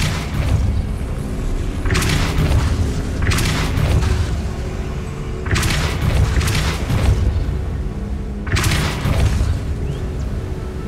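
In the video game Hogwarts Legacy, a Depulso force spell is cast three times at spaced intervals, each one a loud booming burst over a continuous low rumble of game ambience.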